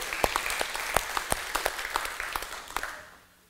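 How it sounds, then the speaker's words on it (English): A church congregation claps in a fairly sparse, moderately loud burst of distinct hand claps that fades out over the last half second. "we can clap for that."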